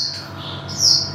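A songbird at a bird breeder's place, where the birds kept include magpie robins, gives a few close, clear high chirps and a short whistled note over a low background hum, with no talk.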